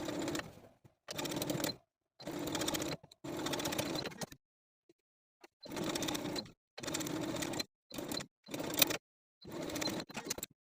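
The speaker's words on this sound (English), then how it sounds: "Just understitch as far as you can." A sewing machine understitches a velvet dress facing in a run of short bursts, stopping and starting with brief pauses between them. The stitching is close and steady, and no one speaks.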